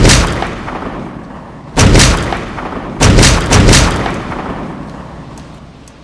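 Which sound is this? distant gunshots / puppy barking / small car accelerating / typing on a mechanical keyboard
distant gunshots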